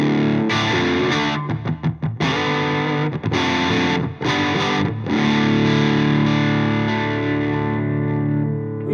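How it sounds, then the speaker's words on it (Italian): A Tom Anderson electric guitar is played through heavy distortion, with thick sustained chords and a few short choppy breaks before a long ringing chord. It sounds loud and close, with no voices. "è una chitarra che è pensata per spingere, per essere più moderna e darvi quel tipico suono là"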